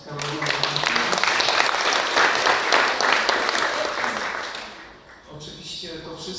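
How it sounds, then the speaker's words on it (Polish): An audience applauds at a conference event with dense, loud, continuous clapping that fades out near the end, followed by a voice speaking. "prosiłbym o oklaski Karola Babińskiego"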